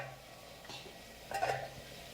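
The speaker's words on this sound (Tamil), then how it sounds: "பாருங்க, குழம்பு கொதிச்சிருச்சு நல்லா." Fish curry made with raw mango and sardines bubbles in a pot, a faint, soft simmer with a few brief louder pops near the middle.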